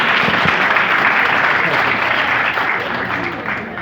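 An audience at a literary book launch ceremony breaks into sustained, dense applause, loud and steady, slowly easing toward the end while a voice speaks over it.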